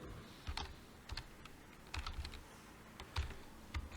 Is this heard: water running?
no